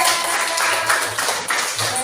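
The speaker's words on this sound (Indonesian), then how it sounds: "Tepuk tangan untuk kelompok 2." A classroom group in Jepara is applauded, with a steady patter of many hands clapping at once, broadband and continuous over two seconds, with a few faint voices mixed in.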